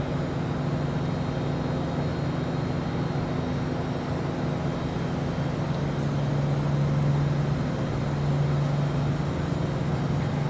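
An Omax 120X 5-axis CNC waterjet cutting machine runs its Z axis up and down, a steady loud mechanical drone with a low motor hum that rises slightly partway through, no speech.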